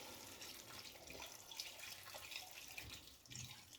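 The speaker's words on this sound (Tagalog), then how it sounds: "So, nya butangan na sad nako ni siya og tubig." Water trickles and splashes steadily as it is poured into a cooking pot for spaghetti carbonara, faint and continuous with small bubbling surges and no talk.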